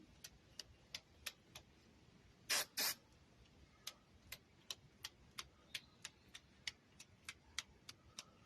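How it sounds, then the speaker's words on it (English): Two short bursts of green spray paint hiss close by as it is sprayed onto fingertips, set against a steady run of sharp, evenly spaced ticks; otherwise quiet. "we'll spray the paint directly onto my fingertips"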